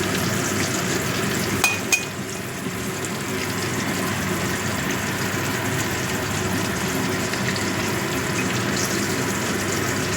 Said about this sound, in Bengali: গোটা জিরে ফোড়নে দিয়ে দিলাম এবার ফোড়নটা একটু ভেজে নেবো